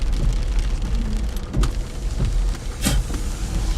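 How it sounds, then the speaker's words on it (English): Heavy rain drumming on a car while inside it, a dense steady wash of patter with a few sharper knocks and clicks breaking through. "we still have some pretty heavy rain"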